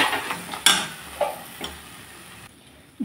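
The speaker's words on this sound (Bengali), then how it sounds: "জিরার গুঁড়ো দিয়ে আমি আলু টমেটোকে ভালো করে কষিয়ে নিলাম।" Potato and tomato are sautéed with cumin powder in a pan: a soft sizzle runs underneath while a spoon scrapes and stirs in several short, separate strokes, close by.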